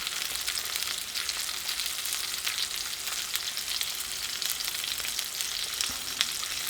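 About a tablespoon of butter sizzles over two pieces of steak searing in a pan, a bright, continuous close-up crackle and hiss with scattered pops, steady and without talk.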